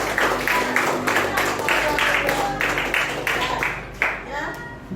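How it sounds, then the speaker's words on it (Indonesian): Children in a school classroom clap together in a steady, rhythmic series of claps, fairly close and moderately loud, with voices heard alongside. "tepuk tangan semua untuk anak-anak"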